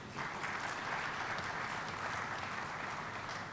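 Conference audience clapping steadily throughout, a dense even wash of many hands in a hall with no voices over it.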